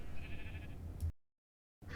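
A Minecraft sheep gives a short bleat, faint and close, followed by a brief cut to silence and then another quick burst of sound.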